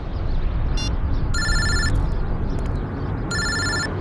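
A telephone rings in two short electronic bursts over a loud, steady background hiss, an unknown number calling.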